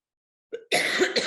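A woman at a panel discussion gives a short throat sound, then a loud, harsh cough burst close to the microphone.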